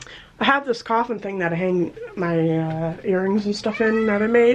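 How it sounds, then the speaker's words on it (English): A pet cat meows repeatedly and loudly close by in a home beside a makeup station, its drawn-out, wavering cries overlapping a person talking throughout. "you can hear him meowing"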